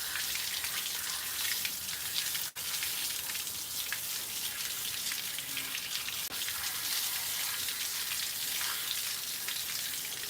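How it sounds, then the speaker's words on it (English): Red dragon radishes rinsed under running water, a steady hissing splash that carries on for about ten seconds with a couple of brief clicks. "Let's go ahead and wash it off."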